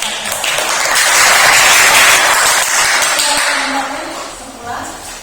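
A classroom group claps for the first presenting group, a loud burst of many hands that swells early and then gradually thins out, with voices talking beneath it near the end.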